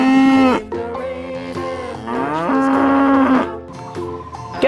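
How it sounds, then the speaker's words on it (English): A black and white cow moos loudly and close up in a series of long, drawn-out lows that rise and fall in pitch. There is no talk over it. "Cow, black and white color cow."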